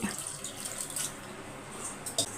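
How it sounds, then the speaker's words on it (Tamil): Half a glass of water poured over mutton in a pressure cooker, a short steady splashing trickle close by with a few small drips, no talking. "அரை கிளாஸ் தண்ணி"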